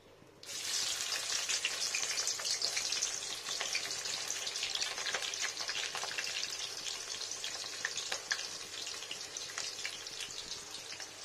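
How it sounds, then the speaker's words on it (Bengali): Diced onions fry in a pan with whole spices such as nutmeg, producing a dense, loud, continuous sizzle that starts abruptly and crackles steadily up close, with no talking. "পেঁয়াজটা কষিয়ে নিই ভালো করে একটু"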